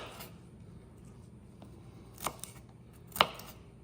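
Knife strokes through garlic on a cutting board, a few sparse, faint cuts with two sharper chops standing out near the end against a quiet kitchen background.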